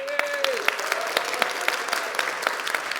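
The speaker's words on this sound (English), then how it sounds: "you applaud and give me some noise, okay?" Audience clapping at a live computer graphics showcase, a sparse run of distinct claps over a few seconds with a voice briefly heard over the start.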